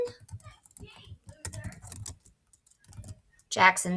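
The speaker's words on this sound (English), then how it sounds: "having a hard time typing today" Clicky keys tapped on a computer keyboard in short, uneven bursts, fairly quiet, with a voice talking over much of it.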